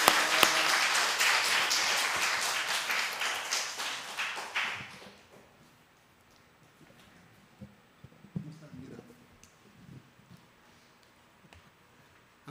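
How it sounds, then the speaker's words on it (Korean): A church congregation at a Sunday worship service claps together in a loud, dense burst lasting about five seconds, then it stops abruptly and quieter room sounds with faint talk follow. "박수"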